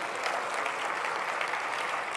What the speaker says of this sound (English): we give a hand of an applause to our wonderful MC of the event, Mireille Carrera,